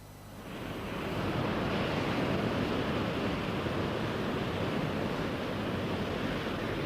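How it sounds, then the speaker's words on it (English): Pacific Ocean surf on a California beach, a steady, loud broadband roar of breaking waves and wash that swells in over the first second and then holds continuously, with no voices. "This is the Pacific Ocean."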